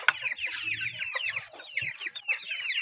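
Broiler chicks from a first batch kept for meat rearing chirp and cluck continuously in a dense, overlapping chorus, close and fairly loud, with no talking.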